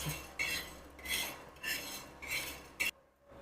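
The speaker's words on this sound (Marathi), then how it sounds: "आपला तवा गरम झाला आहे आता आपण एक शाबू भाजून घ्यायचा" Sabudana dry-roasting on a hot tawa, a spatula scraping across the iron in five rhythmic, close strokes about half a second apart before falling quiet, with no talk.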